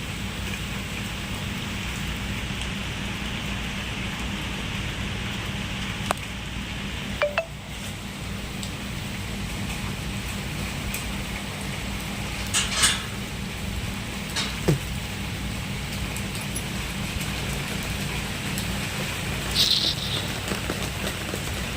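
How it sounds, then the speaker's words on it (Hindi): Steady, dense rain pours continuously in a constant hiss, with a few sharp knocks and drips standing out now and then. "तो बारिश बहुत तेज़ हो रही थी"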